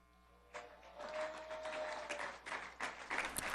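Audience applause from a crowd at a political gathering in Mexico, a dense wash of clapping that swells in and continues steadily for several seconds, with brief dips and surges.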